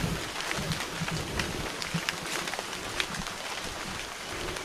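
Afternoon rain falls steadily outdoors in a constant dense hiss with faint scattered drop patters, broad and even throughout, with no voices.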